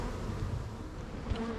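Honeybees move into a new hive with a continuous close buzzing hum of a mass of insects. The hum stays steady throughout with no talk.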